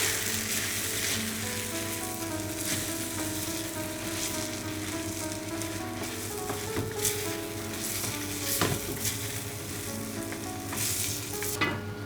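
Lamb karahi with ginger garlic paste frying hard in a pan, a loud, steady sizzle broken by repeated metallic clatters and scrapes as the meat is stirred and mixed.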